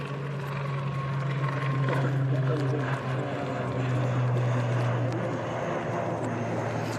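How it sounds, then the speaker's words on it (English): ATR turboprop airliner departing Manchester Airport, a steady loud engine drone with a strong low hum holding through the whole stretch, outdoors with faint background chatter. "ATR departing there"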